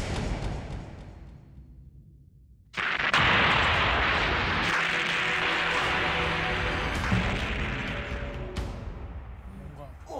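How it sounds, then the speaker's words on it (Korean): A sudden loud bomb blast as a dramatised sound effect in a televised Korean history reenactment set in the capital of Hanyang, a sharp onset after a quiet stretch followed by a long roaring, rumbling decay, with voices under the blast. "뭐야? 저거 폭탄?"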